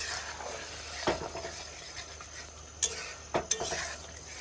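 A spice paste with duck meat is stirred and sautéed in a pan for a Bengali duck curry, giving a faint low sizzle broken by a few sharp scrapes and clinks of the spoon.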